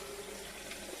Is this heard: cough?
no